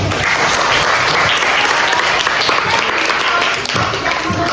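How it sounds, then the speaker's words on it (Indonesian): Classroom applause for students who answered during a teaching session, a brisk, dense burst of clapping that stays loud and continuous throughout. "tepuk tangan dulu"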